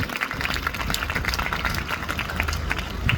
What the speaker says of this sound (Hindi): एक बार जोरदार तालियां बजाएं उस बच्चे के लिए।